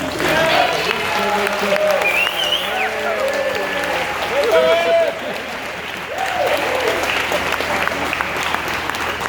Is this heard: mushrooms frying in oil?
no